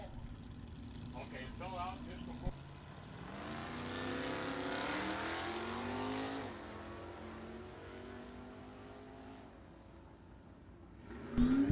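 A 1979 Camaro launching at a drag strip, with a car engine revving and roaring off the line under an announcer's voice, the engine note rising and then fading into the distance.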